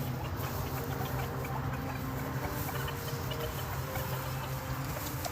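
Rescued battery hens clucking in a farm flock, a continuous chorus of soft clucks and murmurs at moderate distance over a steady low hum, with no talking.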